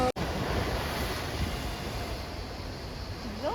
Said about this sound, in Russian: сейчас покажу, как море бушует.